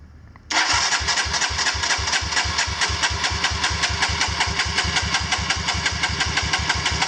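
A big-bore KLX170 dirt bike engine, rebuilt from a KLX140, cranks on its electric starter with a fast, even chugging rhythm of compression pulses that kicks in abruptly and keeps going for several seconds, loud and close.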